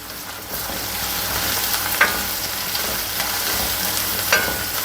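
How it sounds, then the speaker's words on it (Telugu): Chicken and fenugreek leaves fry in a pan with a steady close sizzle, broken by a few brief stirring clinks and scrapes. "ఫ్రై అవుతున్నాయి కదండి"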